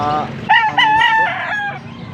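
A young rooster (stag) crows once at a chicken market in Angeles City, Pampanga, loud and close, a rising then drawn-out call that fades at the end.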